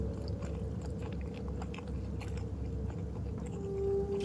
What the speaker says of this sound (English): Am I still chewing on that pizza?